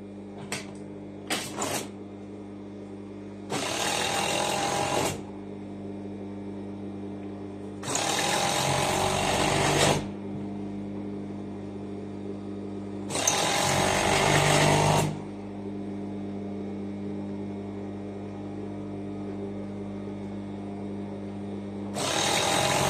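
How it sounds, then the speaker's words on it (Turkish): A sewing machine stitching the inseam of trousers, running in several steady whirring bursts of a few seconds each, separated by pauses with a low background hum, close and moderately loud. "Şimdi çeviriyorum ve bacak arasını dikiyorum."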